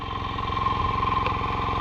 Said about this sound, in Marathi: अरे एका याच्यात चालू झालेला आहे ट्रॅक्टर आपला.